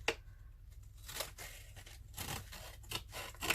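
Scissors cutting through the thick corner of a handmade journal cover, heard as a few close, crisp snips and crunching cuts separated by short quiet gaps.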